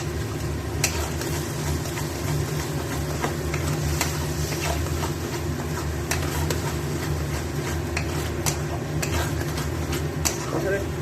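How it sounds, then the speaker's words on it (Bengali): Spiced masala with turmeric and Kashmiri chilli powder being stirred and sautéed in a pan, a steady low sizzle under continuous scraping and clinks of a spoon against the metal. "এবার মশলাটা পুরো কষাবো ভালো করে একবারে।"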